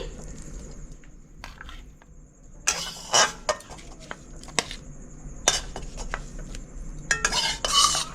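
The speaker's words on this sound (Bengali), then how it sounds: "শাকটা আমি একটা প্লেটে তুলে নিচ্ছি।" Red spinach fry with poppy seed and peanut being scooped from a pan onto a plate, with scattered metal spoon scrapes and clinks against cookware and several louder bursts of clattering, close and without talk.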